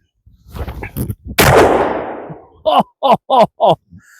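Shotgun firing 3-inch heavy metal shells from an M4-style semi-automatic: one loud close blast with a long decaying roar, then several quick sharp bursts and a final smaller pop.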